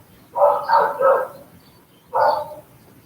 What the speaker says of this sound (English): We have a lot of dogs in the neighborhood, if you're hearing that.